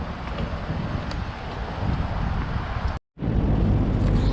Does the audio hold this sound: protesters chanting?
no